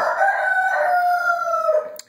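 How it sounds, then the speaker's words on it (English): A rooster crows once, a long drawn-out call that is loud and fairly close and ends abruptly, with no voices. "chickens are waking up too"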